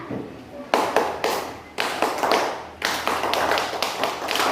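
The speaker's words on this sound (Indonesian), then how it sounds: "Tepuk pramuka itu merupakan tepukan yang mempunyai nada." Hands clap out the rhythmic Pramuka scout clapping pattern in a classroom lesson, in three distinct phrases of patterned claps separated by brief pauses, close and clear with no talk over them.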